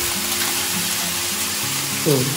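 Food frying in a pan while it is stirred, a constant sizzle with scraping and clinks of a utensil, and a brief louder stir near the end; a voice speaks faintly underneath.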